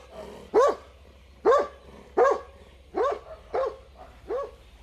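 Dogs bark from decorated kennels in the Czech town of Litomyšl, six loud, evenly spaced barks ringing out one after another over a quiet background, with no talk.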